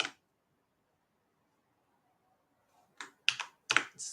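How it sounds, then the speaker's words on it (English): A password is typed on a computer keyboard in a quiet room: a few isolated, crisp key clicks, then a quick cluster of taps near the end. "we're going to type in the current user's password"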